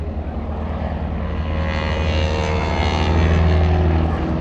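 A Super Stearman biplane making a slow, low pass at an airshow wing-walking display, its radial engine and propeller droning steadily and swelling louder as it draws nearer, with no voices.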